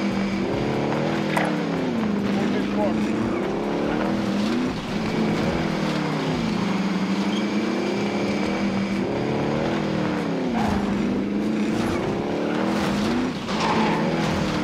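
A car is driven in the video game Call of Duty Warzone, its engine rising and falling in repeated revving sweeps with tire squeals, loud and close for the whole stretch, without talk.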